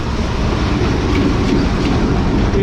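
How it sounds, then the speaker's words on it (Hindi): The 12 Down Hazara Express, led by a PHA locomotive, thunders past at close range in a loud, unbroken roar of wheels and carriages. "हवेलियां और कराची के दरमियान चलने वाली 12 डाउन हज़ारा एक्सप्रेस।"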